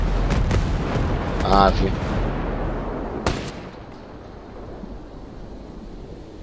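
Gunfire in Ghost Recon Breakpoint, a few heavy booming shots early on and one sharp crack later, fading into a low rumble, with someone speaking briefly in the middle.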